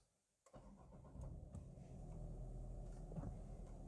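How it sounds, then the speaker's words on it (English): A Subaru XV with a CVT automatic gearbox cranks briefly and fires up, then settles into a steady, fairly quiet idle heard from nearby inside the car. "Right, start the engine like so."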